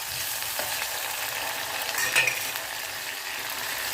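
Onions, garlic and curry leaves sauté in a pan, giving a steady, even sizzle with a soft crackle throughout and no talking.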